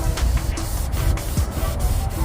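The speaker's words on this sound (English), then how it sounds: "Let's try to spray it over the cloth itself, so we wet it." Turtle Wax matt finish sprayed from a trigger bottle onto a cloth, a few short close hissing bursts repeated in quick succession over steady background noise.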